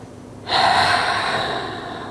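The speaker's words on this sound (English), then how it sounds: "Breathing fully" A single deep inhale through the nose during a yoga stretch is heard up close. It starts suddenly and holds as a steady airy rush for about a second and a half.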